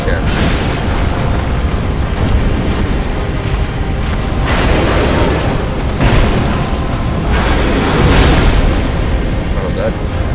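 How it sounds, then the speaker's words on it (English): In a Final Fantasy X battle, a boss unleashes an area-of-effect explosion attack with loud, rumbling booms and roaring bursts that swell and fade several times. "And he did a follow-up AoE explosion."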